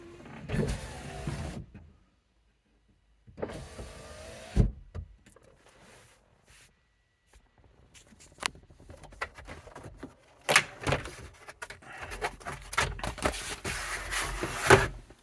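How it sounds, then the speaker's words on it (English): Power windows on a VW New Beetle TDI whir up and down in several separate electric motor runs, each ending in a soft thunk, close by with silent gaps between, no talking. "Power windows. And passenger. Let's try that one."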